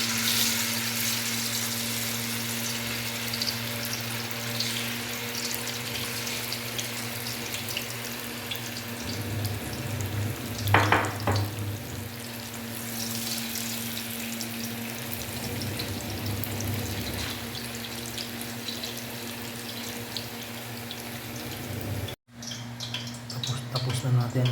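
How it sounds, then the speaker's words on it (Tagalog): Tofu frying in hot oil for tokwa sisig, a steady sizzling hiss that runs throughout with a brief louder splash midway and a short cut near the end. "Tapos na natin iprito ang tokwa."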